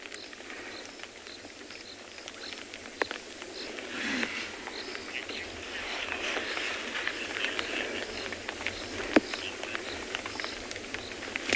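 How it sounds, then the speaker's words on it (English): Rain patters on a roof during an afternoon safari drive near elephants in South Africa, a soft, even hiss of drops with scattered sharper ticks and drips over several seconds, no talking. "You can hear the pitter-patter of raindrops falling on the roof"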